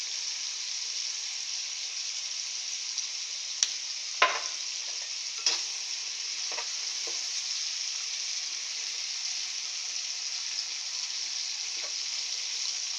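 Tomatoes sauté in a pan with a steady bright sizzle. A few sharp clinks and scrapes of stirring punctuate it, and no one speaks.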